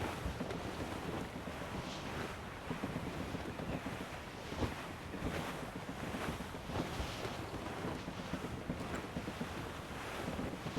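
Sailing ship under full sail in the video game Assassin's Creed Rogue, heard as a steady, loud rush of wind and surging ocean waves with creaking hull texture, continuous throughout with no talk.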